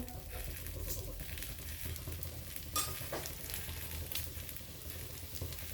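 Moong sprout appe fry in oil in an appe pan, a dense, even crackling sizzle heard close up and continuously, with a couple of faint clinks.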